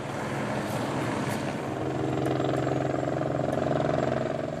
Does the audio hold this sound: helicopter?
yes